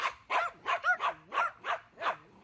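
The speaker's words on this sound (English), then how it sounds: "As soon as those dogs came out, they were all barking like crazy." Several dogs from next door barking outside in a yard, a rapid run of about eight sharp barks and yips in steady rhythm, moderately distant and without voices.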